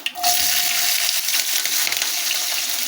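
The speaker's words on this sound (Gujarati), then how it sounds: "આપણે મરચાંને બરાબર સાંતળી લઈએ તેલમાં" Chopped green chillies frying in hot oil tempered with fenugreek, asafoetida and sesame seeds over a low flame, a close, loud and continuous hissing sizzle that starts sharply and holds steady, with no voices.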